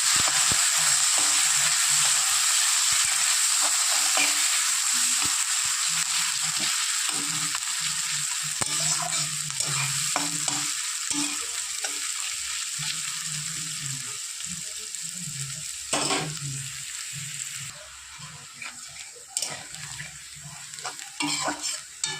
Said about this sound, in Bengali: আর কিছুটা পেঁয়াজ কুচি ভেজে নেব।